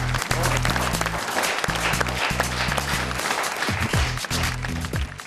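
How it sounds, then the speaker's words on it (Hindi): Loud, dense applause from a studio audience at a poetry show, steady throughout with a low musical tone running underneath. "जरा जोरदार तालियां।"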